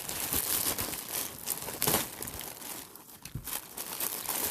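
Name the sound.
unboxing a package of nylon bag samples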